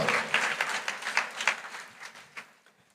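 An audience at a sermon bursts into applause, many hands clapping at once in a dense patter that swells briefly, then thins and fades over a few seconds, heard from within the hall.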